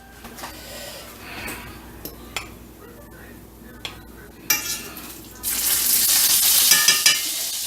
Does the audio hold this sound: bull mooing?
no